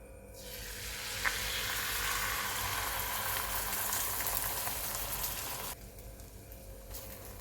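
An egg fries on a hot griddle for street-food egg cheese toast, making a loud, steady sizzle that cuts off abruptly near the end and leaves a quieter hiss.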